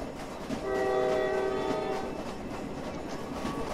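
A train horn sounds in the Roblox game Jailbreak, a steady multi-tone blast over the rumble of a moving train, heard from on board and fading into continuous rail noise.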